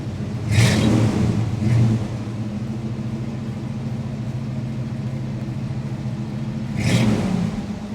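A 1978 Pontiac Trans Am engine rumbles at a close, steady idle, with two sharp revs near the start and another burst near the end rising clearly above the low drone.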